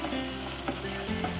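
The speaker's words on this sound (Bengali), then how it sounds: "টমেটো পিউরিটা দিয়ে আবারও কিছুক্ষণ সময় সব কিছু উপকরণের সঙ্গে ভালো করে ভেজে নেব" Tomato puree frying with spices in a pan for a dhaba-style egg tadka, a steady close sizzle with faint stirring scrapes throughout, no talking.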